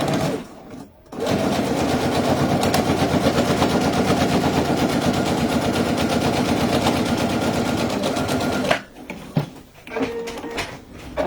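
A domestic sewing machine runs a long continuous top-stitch along the upper edge of a fabric bag at a 3.5 stitch length, steady rapid mechanical chatter, close and loud, then stopping with a few handling noises.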